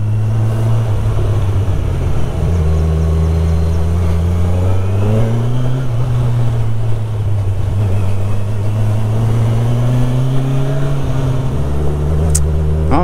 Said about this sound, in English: So now we are driving onto the Kars Road.